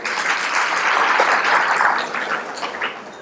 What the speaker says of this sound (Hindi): ये तो और अच्छी बात है, और ताली हो जाए।